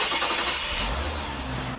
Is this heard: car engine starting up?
yes